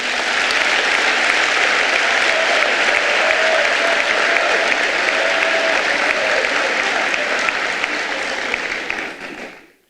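Sustained, loud applause from a large political congress audience, dense continuous clapping throughout that fades out at the very end.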